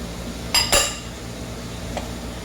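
Metal pots and utensils clink twice in quick succession in a home kitchen as mutton caldereta ingredients go into an unlit pressure cooker, followed by one faint tap, with no talking.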